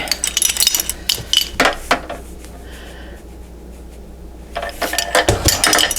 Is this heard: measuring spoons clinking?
yes